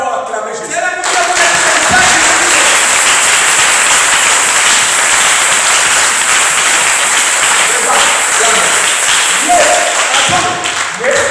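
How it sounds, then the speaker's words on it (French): Loud, sustained applause and cheering from a church worship audience, a dense wash of clapping that fills the whole stretch without pause. "Est-ce que quelqu'un peut d'abord acclamer Jésus?"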